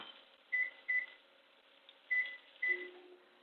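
A new microwave oven gives four short electronic beeps, two close together, a pause, then two more, clear and alone in a quiet kitchen.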